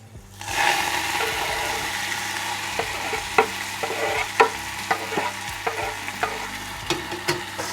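Chopped coriander leaves hit a hot pan of cumin and bay leaves for coconut jeera rice, bursting into a loud sizzle that settles into steady frying, with sharp scraping stirs and clinks of a spoon recurring throughout.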